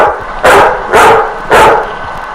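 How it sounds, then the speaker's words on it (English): A video game dog barks three times at a steady rhythm in a desert, loud and close, over a constant background noise. "I thought there was a dog barking out here in the desert."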